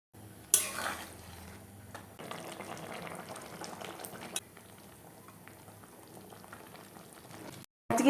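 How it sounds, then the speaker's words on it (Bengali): Chickpeas boil in a pot before going into a pressure cooker for ghugni. A steady, close bubbling and simmering carries on throughout, with a utensil clink near the start and a brief cut just before the end. "এখানে কিছুটা সেদ্ধ করে তারপরে প্রেশারে দেবো"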